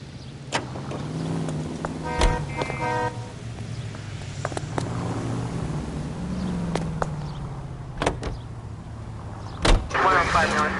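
Car engine hum from a drive in the L.A. Noire video game, a steady low drone running throughout, with a couple of short horn toots and people talking over it.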